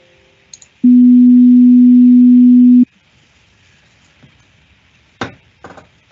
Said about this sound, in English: And here we can play an even higher pitch sound.